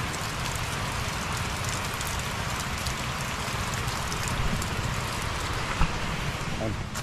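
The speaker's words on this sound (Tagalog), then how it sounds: "umuulan, nasa bayan." Rain pours down in a rural farming town, a dense close hiss with scattered droplet taps, steady throughout while a person speaks briefly over it.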